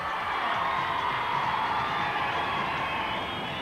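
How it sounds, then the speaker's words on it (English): A large crowd applauds and cheers for the riders at a 1986 international freestyle BMX competition, a dense, steady roar of clapping and voices that holds evenly throughout, with no talk on top. "Let's have a big round of applause for all the riders!"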